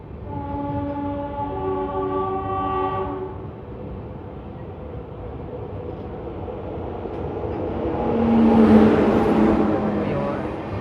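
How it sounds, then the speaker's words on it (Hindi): An Amrit Bharat Express running Kamakhya–Rohtak behind a WP7 locomotive sounds a long, loud horn, then rolls past with a steady rumble of wheels and carriages that swells as it draws closest. "अमृत भारत एक्सप्रेस कामाख्या रोहतक WP7 के साथ थी भैया"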